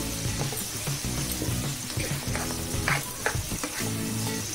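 Prawns for spicy butter garlic prawns sizzle hard in a pan over high flame with no added water, a steady loud frying hiss with occasional stirring scrapes and clinks close by.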